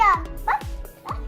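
A human voice imitates a small dog barking, giving about four short, close, yappy woofs in quick succession.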